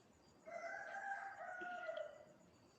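A rooster gives one clear, drawn-out cock-a-doodle-doo lasting about two seconds, a little distant and quiet, over a low background hiss.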